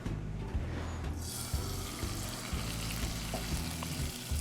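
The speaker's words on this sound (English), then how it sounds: "you want to sear this on both sides" Seasoned trout seared in a hot pan, a steady close sizzle and crackle of frying with small scraping and stirring knocks, no talking.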